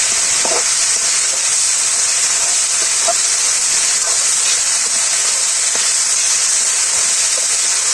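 Food fries in oil in a pan over a village kitchen fire, a loud, constant close-up sizzle and hiss with occasional small pops throughout, no talking.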